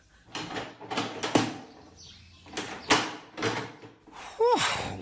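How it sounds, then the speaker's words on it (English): Door handling in a drama scene, with a series of sharp knocks, clunks and rattles like a lock being worked and a door pulled open, each thud close and distinct, plus a brief squeak near the end. "unlock that door and let the inspector out"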